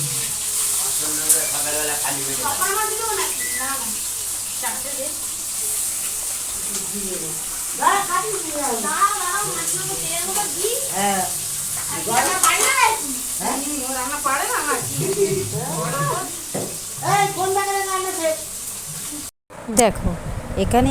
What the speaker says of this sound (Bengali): আমি কুমড়ো আর আলুটা যে সরু সরু করে কেটেছিলাম ওটাই আগে ভেজে নিচ্ছি